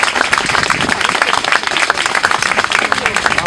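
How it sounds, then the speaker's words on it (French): An outdoor crowd at the inauguration of a memorial stone in front of the WHO claps in dense, steady applause, loud and close throughout the short stretch, with no one speaking over it. "Je propose qu'on les applaudisse, tous ces gens"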